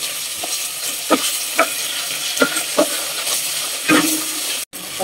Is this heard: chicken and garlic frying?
yes